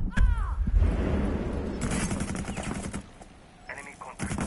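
Rapid gunfire in the tactical shooter Rainbow Six Siege: a close burst of shots with sharp cracks, fading into quieter shooting and then a few more shots near the end, with voices talking over it.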